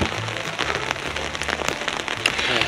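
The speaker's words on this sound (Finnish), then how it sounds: "Jaha, sade yllätti retkeilijän." Rain pattering steadily on a bikepacking trip in the Kaldoaivi wilderness, close and fairly loud with dense drops tapping on nearby surfaces, no talking.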